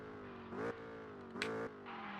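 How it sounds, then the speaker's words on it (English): A car engine downshifts in the Roblox Southwest Florida driving game, a steady drone broken by two quick rising blips as gears drop, fairly close and alone. "Oh, the downshifts are peak."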